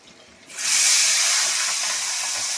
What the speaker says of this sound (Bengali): আমি মাথাগুলো আগে ভেজে নিই